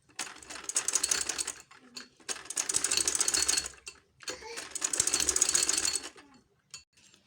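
Sewing machine stitching a front zip onto a kurti, running in three bursts of rapid, steady stitching separated by short pauses, close and loud with no talking.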